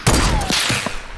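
Rapid bursts of gunfire in the Fortnite video game, loud and close, with sharp cracks and a brief rattling volley.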